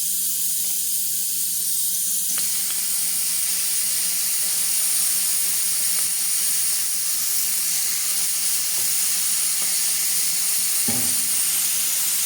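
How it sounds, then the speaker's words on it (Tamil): Ginger garlic paste frying in hot oil in a pan, cooking for a Tamil-style liver fry, gives a steady, even sizzling hiss that runs unbroken throughout, with a faint low hum beneath and a brief clink near the end. "இதுக்கு 3 கரண்டி ஆயில் சேர்த்திக்கிறோம் சட்டிக்கு. இப்போ நாங்கள் அதில் இஞ்சி பூண்டு விழுந்து 2 கரண்டி சேர்த்துக்கொள்வோம்."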